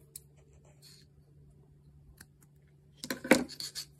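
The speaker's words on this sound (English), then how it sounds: "you can just snip it with your scissors" A quiet stretch with faint scratches, then a short burst of crisp scissors snipping crochet yarn and rustling near the end, close to the ear.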